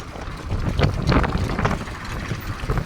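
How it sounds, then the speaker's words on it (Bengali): Strong gusting wind whipping up dust in Medina, buffeting the microphone in loud rushing bursts with a rough, roaring texture throughout. "প্রচুর বাতাস এবং প্রচুর ধুলো উঠতেছে"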